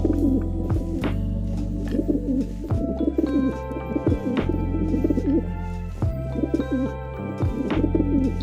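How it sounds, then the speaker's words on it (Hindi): A pigeon coos in repeated low, throaty phrases, close and clear, with a few faint chirps from other birds behind it and no speech. "कबूतर को इंग्लिश में पिजन कहते हैं।"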